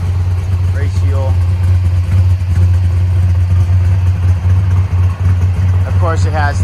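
A 1963 Plymouth Sport Fury Max Wedge idles on race fuel with a deep, steady rumble through its factory exhaust, loud and close, while people talk over it.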